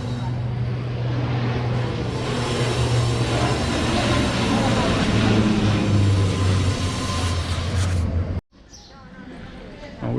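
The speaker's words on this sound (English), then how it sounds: "And the plane coming over." Airliner engine roar passing overhead outside an airport parking and ticket area, a loud sustained drone that fills most of the clip before cutting off abruptly, with voices faintly underneath.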